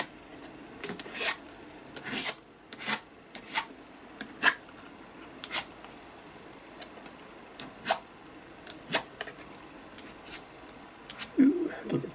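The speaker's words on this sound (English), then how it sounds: "and then we can scrape those too." Palette knife or card scraping small blobs of turquoise paint across a page, heard as a series of short, separate rasping strokes, fairly close, with faint background noise between scrapes.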